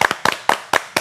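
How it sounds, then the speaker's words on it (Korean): A few people clap together in a quick, even rhythm, with five sharp double-hit bursts close to the microphone, celebrating the Nuri rocket launch. "박수 한번 쳐주세요"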